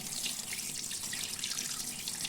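Steady running tap water splashing continuously into a sink while washing goat brain, close and fairly loud, with no voices.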